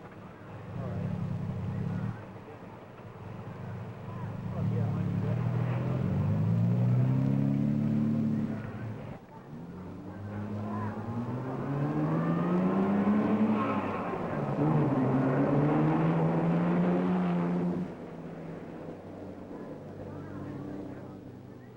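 1961 Ferrari TDF cars in a European road race head along the road toward Clermont-Ferrand, their engines droning and rising in pitch through gear changes, loud and close, with a voice narrating over them.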